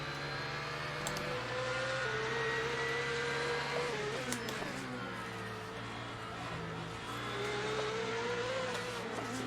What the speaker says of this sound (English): that Ferrari sounds awesome